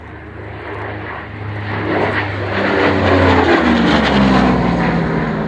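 A propeller-driven warbird flies overhead, its engine drone swelling steadily louder over several seconds with a rough, throbbing tone and no talk.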